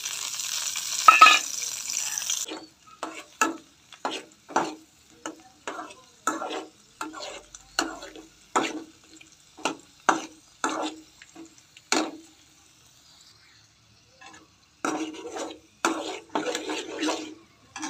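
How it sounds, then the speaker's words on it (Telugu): A spoon scrapes and clinks repeatedly against a pan as cashews and raisins fry in ghee, rhythmic strokes over a light sizzle, with a brief pause before the stirring resumes. "అందులో ఒక నెయ్యి వేసుకుని ఆ నెయ్యిలో జీడిపప్పు కిస్మిస్ వేగనివ్వాలి దోరగా"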